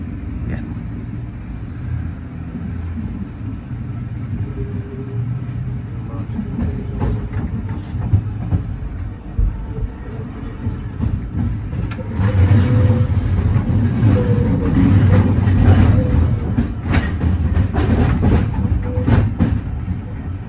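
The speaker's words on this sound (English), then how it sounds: "just so you can get just the sounds of the V Set" A Sydney Trains V Set intercity train is heard from on board as it runs. Its steady rumble and rattle fill the whole clip, and it grows louder and busier midway through.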